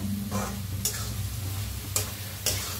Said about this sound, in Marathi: आता छान भाजीला मिक्स करून घेऊया